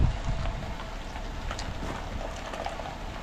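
Rain drips and patters steadily on surfaces close by, a dense continuous hiss of drops with no voices over it.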